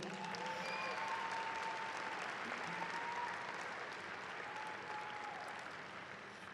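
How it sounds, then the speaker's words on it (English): Steady applause from a large audience at a high school graduation, sustained and even throughout, with faint whistles and cheers mixed in. "Let's give another round of applause to Ms. G."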